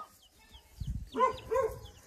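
A village dog in a farmyard gives two short barks, somewhat distant and moderately loud, following a dull low thump, with soft background noise and no talk.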